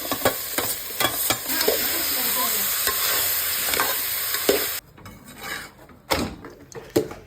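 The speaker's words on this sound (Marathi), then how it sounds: "कांदा घेतलाय, अद्रक लसूणची पेस्ट टाकून मस्तपैकी आपण हलवतोय" Liver fries with onion and ginger-garlic paste in oil and a little ghee, giving a dense, close sizzle with repeated scraping stirs, then the hiss drops away, leaving a few sharp spoon knocks and scrapes.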